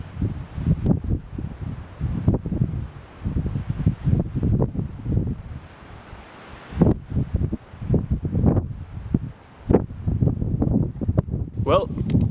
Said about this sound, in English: I'm holding this a little close because it's a little windy up here